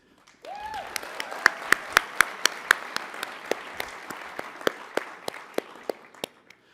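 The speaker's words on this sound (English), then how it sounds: "I think we should give another round of applause for the nurses." An awards-ceremony audience applauds the nurses, a dense round of clapping with sharp individual claps standing out that gradually thins and fades.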